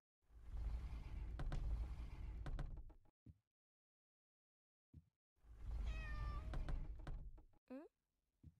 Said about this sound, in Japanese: 猫ちゃん？